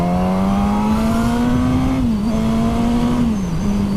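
A Suzuki GSX-S1000 straight-four motorcycle engine drones steadily at high revs, its pitch rising gradually under load from about 4,000 rpm with a brief dip as it shifts, loud and close.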